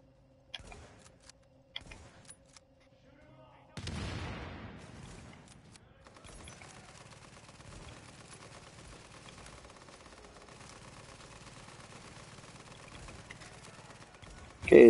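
Gunfire in the video game The Division: a few sparse early shots, then a heavy sustained burst of rapid automatic fire that continues steadily, ending in a sharp loud hit.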